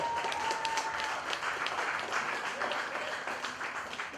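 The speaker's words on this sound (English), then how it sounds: "So can y'all first give her a round of applause for me for that?" An audience at the Music Atlanta conference gives a sustained round of applause, thick overlapping claps at a steady level that tapers slightly near the end.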